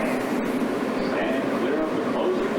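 Steady rumble and whine of a New York City subway train, heard from nearby on a Saturday night as a continuous drone with faint hiss, with no clear speech over it.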